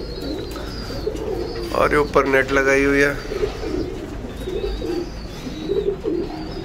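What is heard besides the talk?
pigeons cooing while pecking grain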